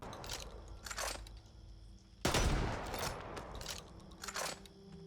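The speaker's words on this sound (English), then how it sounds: "Next up we've got the Belgian, a very heavy impact sawn-off shotgun." The Belgian sawn-off shotgun in Back 4 Blood firing: several heavy blasts in irregular succession, one especially loud boom in the middle, with ringing tails and handling clatter between shots, no voices.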